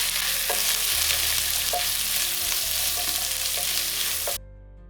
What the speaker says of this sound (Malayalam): പിന്നെ തേങ്ങാക്കൊത്തിട്ടിട്ട് കുറച്ച് ബ്രൗൺ കളർ ആകുന്നത് വരെ നമ്മൾ ഇങ്ങനെ ഇളക്കിക്കൊണ്ടിരിക്കണം.